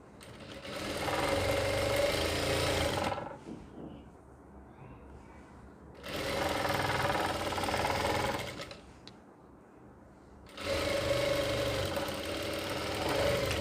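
A sewing machine stitches a kurti collar in three sustained bursts, each a few seconds long, separated by short quiet pauses; the motor hum is steady and close.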